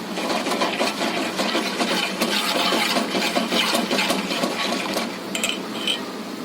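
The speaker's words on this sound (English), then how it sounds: "Stirring it on a low to medium flame." A spoon stirs boiling milk for mango pudding in a pot over a low to medium flame, giving a dense, continuous scraping and clinking at close range with steady bubbling underneath, alone without talk.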